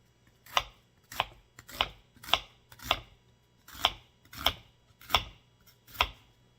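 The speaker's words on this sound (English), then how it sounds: "now we're going to dice this onion up" A knife dices an onion on a cutting board, about ten crisp, evenly spaced strokes with brief pauses, close and clear with no talking.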